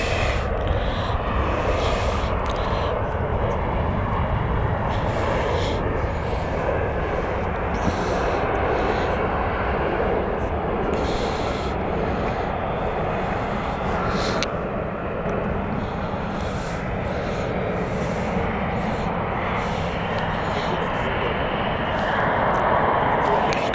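A Pegasus airliner arrives at Stansted Airport, its engines a loud, steady broadband roar that continues throughout, with voices talking intermittently over the noise.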